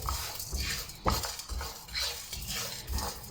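Whole coriander seeds, black pepper, cloves, cumin and black cardamom being dry-roasted in a frying pan, with soft scraping and stirring of a spoon against the pan and faint rattling of the spices, quiet and close.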